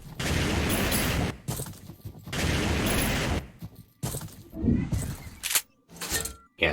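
Rapid bursts of automatic machine gun fire in a video game, set in an Orange Moon level, coming in several loud, dense volleys separated by short pauses, with sharper single shots and clatter toward the end.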